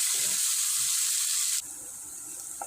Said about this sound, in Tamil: வெங்காயம் சேர்த்துக்கலாம் நல்லா பொன்னிறமாக வறுத்துக்கலாம்